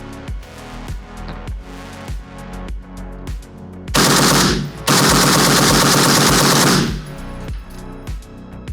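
Izhmash 5.56 AK rifle with a Mars FRT trigger firing rapidly, first a steady series of loud, close individual shots, then two long, dense bursts with a brief gap between them, ending in single shots again.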